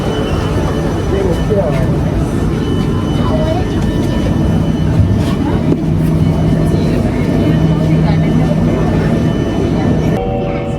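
A train rumbles steadily into Chinatown Station in Singapore with a continuous low mechanical drone and faint tonal whines, loud and close, with a crowd talking underneath.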